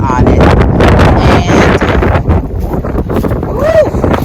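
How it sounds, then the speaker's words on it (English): Loud, constant buffeting of wind against a microphone outdoors on a farm, a heavy low rumble with gusts throughout and a person's voice heard faintly under it. "it's windy"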